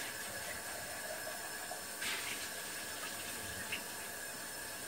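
Tap water runs steadily and faintly into a glass jar being rinsed out for cold brew coffee, with a couple of light clinks and no speech.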